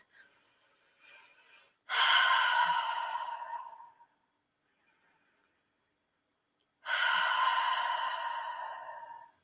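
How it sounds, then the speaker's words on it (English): Two long, slow, deep breaths drawn in and let out during a calm guided relaxation, each breath lasting around two seconds, close and clear with quiet pauses between them and no talking. "just take a couple of deep breaths in and out"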